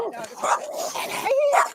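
A dog yips and whimpers in short bursts, close by, mixed in with excited people talking over it during a tense encounter with a sheriff's deputy.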